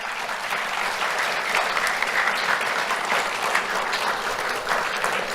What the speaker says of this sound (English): Let's have a round of applause for Adriana.